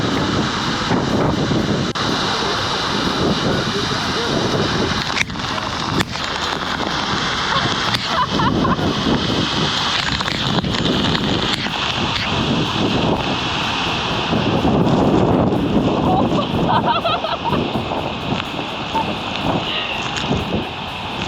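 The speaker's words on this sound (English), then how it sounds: "Like literally walking behind a waterfall." Behind a waterfall on Iceland's south coast, a heavy roar of falling water and spray fills the space continuously, loud and close, buffeted by wind on the microphone, with occasional voices underneath.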